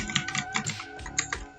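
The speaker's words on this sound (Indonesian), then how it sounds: "Mengetik ya." A password is typed on a computer keyboard, with about a dozen crisp, close key clicks in an uneven, quick rhythm and no one talking.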